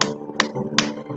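Church congregation clapping during a worship service, sparse and uneven with a few sharper claps standing out over a low hum of room noise.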